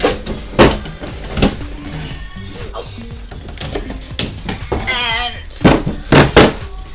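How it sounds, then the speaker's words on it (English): A drawer in a toddler girl's bedroom is pulled out, giving a few solid wooden thunks and a sliding scrape, loud and close, with a short rattle partway through. "I need to pull out the drawer"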